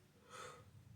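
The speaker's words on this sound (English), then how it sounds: "Yawning now." A single drawn-out human yawn, quiet and breathy, rising and fading over about a second with no talking.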